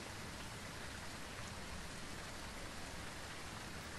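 Steady rain in the ghost-hunting game Phasmophobia, a dense, even hiss of falling drops on outdoor surfaces that fills the whole stretch without pause, fairly faint and with no voices over it.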